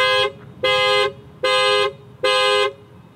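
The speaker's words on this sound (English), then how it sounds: "So it flashes the lights and beeps the horn." A 2019 Toyota 4Runner Limited's horn blares in four evenly spaced honks from its panic alarm, loud and close, repeating in a steady alarm rhythm.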